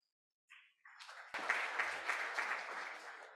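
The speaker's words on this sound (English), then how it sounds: "a rare pre-lecture clap, thank you" Audience applause breaking out just before a cancer genomics lecture begins, a single sharp clap then a steady wash of many hands clapping in a hall, fairly loud and sustained without talk.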